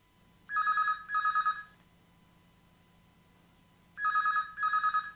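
A telephone rings for an incoming call to a radio phone-in show, two pairs of electronic trilling bursts separated by a pause, clear and fairly close over a faint hum.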